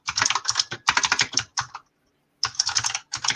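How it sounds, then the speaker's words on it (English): Fast computer keyboard typing in close, loud bursts of clattering keystrokes, with a short silent pause in the middle before the typing resumes. "Philip, mute up while you're typing, it's loud as fuck."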